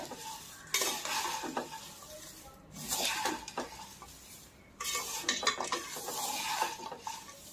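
Crisp fried poha chivda being stirred in a pan over very low heat, a utensil scraping and rattling through the dry flakes in bursts with short pauses between, close and moderately loud with no talking.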